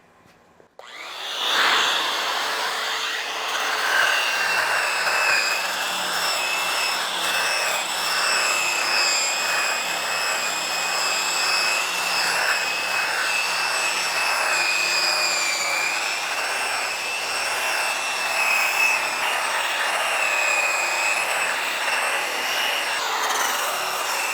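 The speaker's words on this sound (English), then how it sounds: "We'll grind it out, we'll show you what it looks like with the paint eater." A paint eater grinder strips old exterior paint during paint prep, a loud, steady high-pitched whine with rough abrasive grinding that starts abruptly and runs unbroken throughout.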